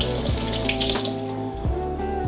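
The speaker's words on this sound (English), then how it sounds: "I'm gonna wash this potato real quick." A potato is rinsed under a running kitchen tap, a steady close splashing of water as the spud is turned in the stream, with no talking.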